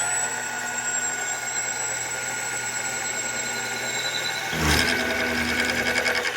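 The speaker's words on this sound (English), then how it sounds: "Mills make different noise." A milling machine runs with a steady mechanical whine and high tone while machining a model diesel airplane engine part, then a harsher cutting burst near the end.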